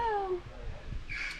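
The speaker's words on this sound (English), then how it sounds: "That's Electus. Hello. Grand Electus parrot." A Grand Eclectus parrot voices a short tonal, speech-like call that slides downward, then a fainter higher chirp, heard close against quiet room background.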